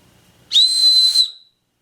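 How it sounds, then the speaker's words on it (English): A single loud, shrill blast from a survival whistle lasting under a second, close and piercing, then silence. "I'll show you the sound of the whistle"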